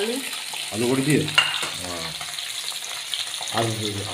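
Onions frying in oil in a pan while tilapia fish curry with potato and lentil dumplings is cooked, a steady sizzle with stirring scrapes beneath a voice talking over it.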